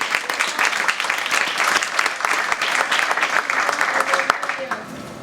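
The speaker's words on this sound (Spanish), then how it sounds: "Vamos a aplaudir al Señor esta noche." A church congregation applauds during an evening worship service, with dense, steady clapping filling the room for several seconds and a few scattered voices mixed in near the end.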